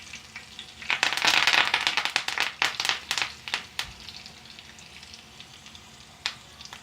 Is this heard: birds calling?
no